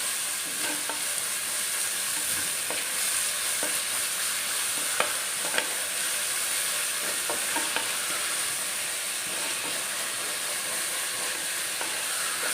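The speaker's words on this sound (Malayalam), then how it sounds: "ഇത് നല്ലപോലെ ഒന്ന് ഇളക്കി ഒന്ന് വഴറ്റിയെടുക്കാം" Onions with salt, sautéed for a Kerala-style crab roast in a large pan, give a steady, dense sizzle throughout, with faint scraping as they are stirred.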